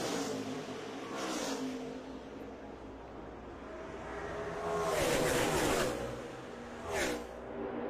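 NASCAR race cars accelerate together on a green flag restart, engines rising in pitch as they surge past. The roar is fairly faint and distant, swelling in waves with a strong rush midway and another brief burst near the end.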